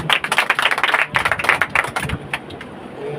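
A congregation at a Sunday deliverance church meeting claps together, a brisk run of sharp, rhythmic hand claps that thins out near the end.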